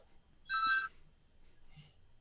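A mobile phone ringtone sounds in two short electronic bursts, a brighter chime followed by a fainter repeat, quiet and alone against low room hiss.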